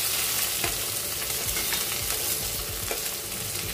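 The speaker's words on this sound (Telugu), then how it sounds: "ఇలా వేగిపోయిన వెంటనే కూడా 2 ఉల్లిపాయలు ఇలా లాంగ్గా పీసెస్ కట్ చేసుకొని వేసుకోవాలి" Long-sliced onions fry in hot oil with whole biryani spices, giving a steady close sizzle with occasional scraping stirs of a spoon in the pan, continuous and without voices.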